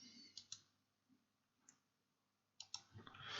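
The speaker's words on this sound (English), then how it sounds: "Spend an eternity clicking and removing dots here." A computer mouse gives sparse, quiet clicks, single and in quick pairs with pauses between, while dots are removed from a damaged photo in a near-silent room.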